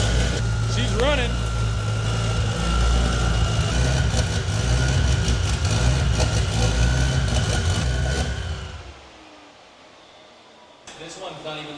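A newly built single-turbo BMW M4 CS engine runs at a loud, steady, slightly uneven idle right after its first startup, with voices nearby, then the engine cuts out, leaving near silence before a brief clatter.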